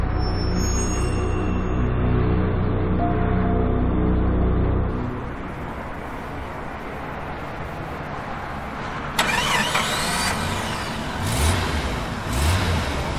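A car engine starts in a tense short-film scene, then settles into a rumbling run, with a sharper burst of revving partway through and no one speaking.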